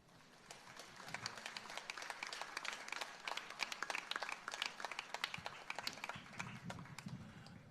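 A crowd at a church service for the feast of St. Anthony claps steadily for several seconds to thank a priest, Father Raj, with dense, even applause from a moderate distance and no talking.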